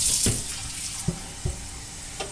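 Water poured into a roasting pan holding a whole stuffed chicken, a steady splashing stream with a few sharper sloshing bursts, close and alone without talk.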